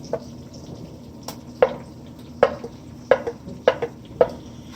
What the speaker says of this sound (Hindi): all you need to do is mix it, अच्छी तरीके से भून लें